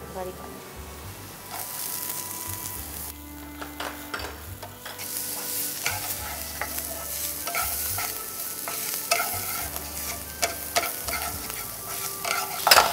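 Ginger and finely chopped onion frying in a pan with lots of garlic, a continuous close sizzle with frequent stirring scrapes and a faint low background hum, no clear voices.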